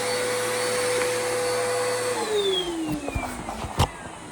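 A Sanitaire SC679J upright vacuum cleaner runs steadily upstairs with a loud, constant whine, its pitch dropping partway through as it works across the floor, ending with a few bumps and knocks.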